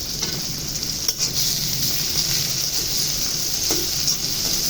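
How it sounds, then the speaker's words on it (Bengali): Prawns frying in hot oil with onions and green chilies, a dense, loud sizzle with a brief spatter and stirring scrapes, no one speaking. "বেশ কিছুক্ষণ পরে পেঁয়াজের গন্ধ চলে গেলে চিংড়িগুলো ঢেলে দিলাম"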